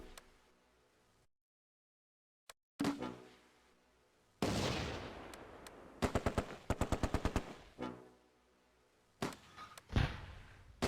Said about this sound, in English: The Vickers opens up on Schutzen